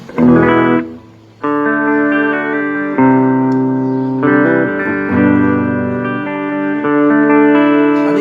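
Humbucker-equipped electric guitar played through a Fender Champion 40 amplifier with distortion and effects, sustained chords and notes ringing with a rich, saturated tone and some reverb tail, no talking.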